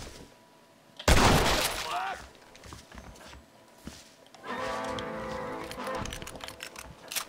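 Gunfire rings out in the video game Red Dead Redemption: a loud, sharp shot with a trailing echo, followed by scattered quieter shots and clatter against a tense ambient background.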